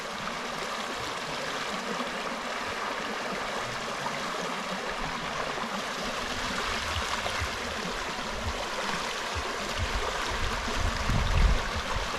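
A river flows steadily at the riverside, a broad continuous rushing and gurgling wash that stays even throughout, with a slightly louder swell of water near the end.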